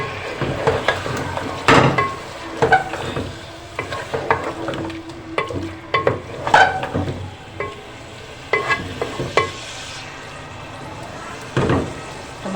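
Tomatoes frying in a pan with browned onion, garlic and ginger for chicken dum biryani, with repeated stirring scrapes and clatters over a steady background sizzle, fairly close and alone.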